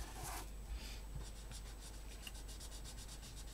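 A thick felt-tip marker rubs quickly across paper while colouring in a puppet-dog craft, making faint, close, rhythmic scratchy strokes with no talking.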